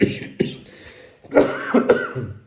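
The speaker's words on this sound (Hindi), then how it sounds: "सूखी खांसी हो रही है" A few short, harsh dry coughs in quick succession, close and fairly loud, with brief pauses between bursts.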